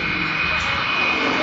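Sukhoi Su-26 aerobatic aircraft engine at the Biggin Hill Airshow in 2006, a steady, continuous roar with no breaks, heard from a distance during climbing and rolling manoeuvres.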